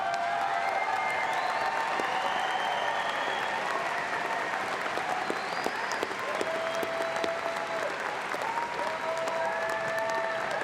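Commencement audience applauding honors graduates at a Colorado State University spring ceremony, a steady, dense wave of clapping from a large crowd that holds evenly for the whole stretch.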